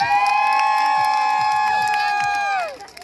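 Festival crowd at an outdoor light celebration cheering and shouting in a loud, sustained roar with high whoops and whistles, tapering off at the end.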